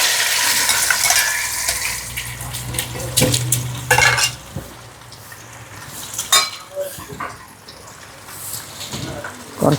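Several eggs fry in a pan in a home kitchen, a steady close sizzling hiss broken by scraping stirs and sharp clinks of a utensil against metal, with no voices.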